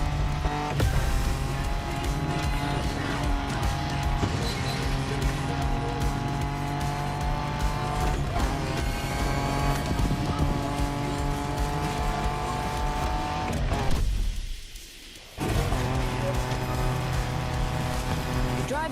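Cars roaring through an off-road race in the MotorFest racing video game, with a loud, steady engine drone and tire noise that briefly cuts out near the end before resuming.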